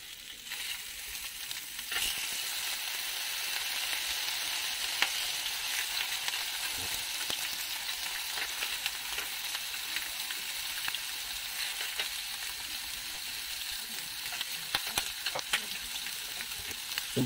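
Pork face sisig fries in a hot pan with a steady, dense sizzle that keeps going throughout, joined by occasional scraping clicks from stirring.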